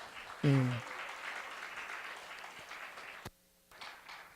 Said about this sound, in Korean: 격려와 위로의 박수 한번 우리 청소년부에게